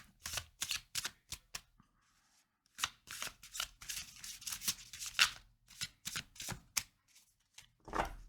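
Oracle cards being shuffled by hand, with bursts of quick riffling and snapping card sounds in uneven clusters and brief pauses between them, close and soft, with no speech.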